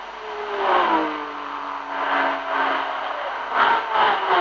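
Ford Mk2 race car at the 1966 Le Mans 24 Hours, its engine droning steadily at mid distance with a falling pitch as it passes, then swelling again in later surges.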